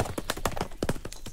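Horse hooves clip-clop in a quick, steady rhythm of close, distinct knocks that repeat throughout a short stretch of a children's audio fairy tale.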